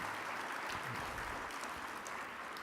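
An audience at a speech event applauds in a faint, steady wash of clapping that carries on evenly across the short stretch without breaks.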